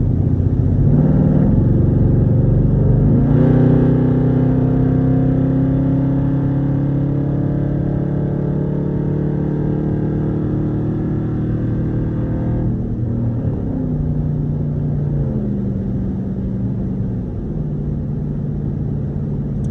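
Straight-piped Jeep exhaust droning steadily while cruising, a loud, deep continuous rumble close up with a gear shift around the middle and a gently rising and falling engine tone, no talk.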